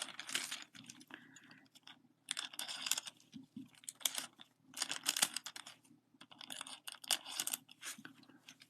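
Scissors snip through nail art foil pieces at close range, several short crinkly bursts of cutting with brief pauses between them, no talking.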